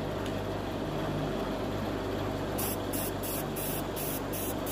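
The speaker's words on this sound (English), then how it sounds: "be really helpful to have spray paint that actually wasn't near empty" A nearly empty spray paint can sprays onto a tumbler with a continuous loud hiss, breaking into short sputtering pulses toward the end as the can runs low.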